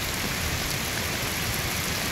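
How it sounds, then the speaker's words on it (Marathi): Heavy rain pours down in a loud, unbroken roar of drops, dense and steady with nothing else audible. "पण पाऊस अजूनही जोरदार चालू आहे"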